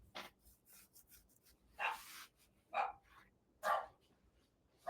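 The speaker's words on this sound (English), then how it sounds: "she barks at anybody that comes through the door" A dog, a female K9, barks indoors in several sharp, separate bursts with pauses between them, fairly close and loud, with a few quieter rasping and whimpering sounds between the barks.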